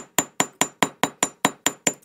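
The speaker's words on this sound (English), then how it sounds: "take my chasing hammer, which is this, and take the rounded edge and just put some divots" A rounded-edge chasing hammer strikes a metal ring to dent it with divots for a distressed look, giving ten evenly spaced, bright metallic taps in a steady rhythm, close and clear with no talking.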